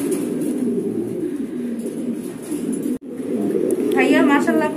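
Lahori and King pigeons coo in a loft, a steady low murmur of cooing running throughout, while a voice speaks over it near the end.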